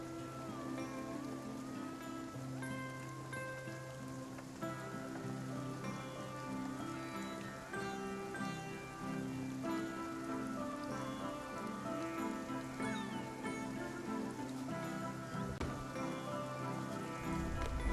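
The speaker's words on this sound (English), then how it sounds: "This rain will it ever stop?" Steady rainfall in the cozy video game Spiritfarer, a continuous soft patter running the whole stretch beneath layered, gentle sustained music tones.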